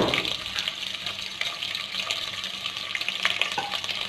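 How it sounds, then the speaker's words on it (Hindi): Onions frying in oil in a pot give a steady, dense sizzle that holds close and even throughout, with a brief higher clink near the end and no talking. "इसके अंदर हम प्याज फ्राई करेंगे।"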